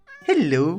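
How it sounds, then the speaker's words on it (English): A single short, rising and falling cat meow from Minecraft, clear and close, with a brief spoken word just before it. "Oh, that's a cat."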